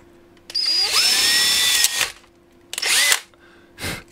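A Dremel rotary tool cuts into a 3D-printed PLA cartridge case in three bursts: a long shrill whine of about a second and a half, a shorter second cut, then a brief final touch, close and loud.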